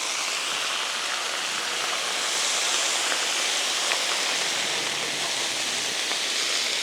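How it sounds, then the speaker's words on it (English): Water dabbed onto spinach on a hot griddle gives a loud, steady sizzling hiss that holds evenly throughout, with no voices. "I'm just going to dab a little bit of water."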